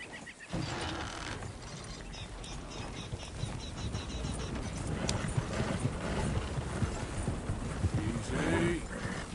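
Horse hooves clip-clopping steadily on a trail in Red Dead Redemption 2, a continuous rhythmic trot with creaking tack and ambient game sounds, a brief voice mixed in.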